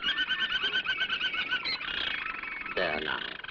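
Pet canary sings in a 1930s film scene, giving rapid, high, rolling trills and chirps that run continuously, faint and a little muffled, with a brief lower sweeping phrase near the end.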